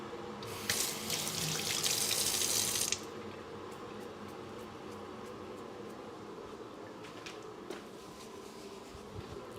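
Running water from a tap in the video game Firewatch gushes loudly for about two seconds, then cuts off, leaving a quiet outdoor ambience with faint ticks.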